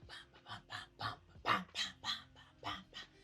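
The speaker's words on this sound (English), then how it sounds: "I like how the dog sounds when he growls. He sounds like a chainsaw." A dog in the first episode of the anime Chainsaw Man, growling and barking in a rough, chainsaw-like way, with a run of about nine loud, close, rhythmic bursts.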